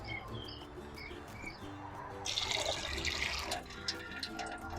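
Soaked mung beans are washed under running water in a sink, a steady close splash and trickle that swells midway, with birds chirping faintly outdoors.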